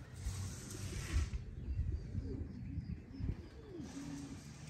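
Racing pigeons at a one-loft race coo softly in low, wavering notes, with bursts of broadband rustle at the start and end that may be wing flapping, moderately near and fairly quiet.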